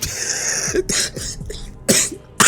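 A series of sharp, harsh coughs in quick bursts, close by, with brief pauses between them.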